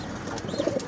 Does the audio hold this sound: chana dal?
no